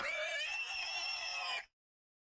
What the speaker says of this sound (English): You have boar attack.